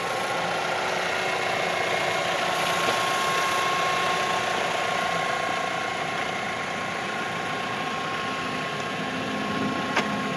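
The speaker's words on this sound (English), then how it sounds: "Here the 16 valve engine working good." A Mazda 5's 16-valve engine runs steadily at close range, a continuous mechanical hum with a faint ticking, ratchet-like clatter throughout and no voices.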